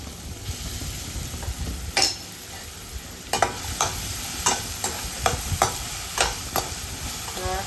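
Green chili paste fries in ghee with a constant sizzle, broken by repeated scraping stirs of a spoon against the pan, close and clear.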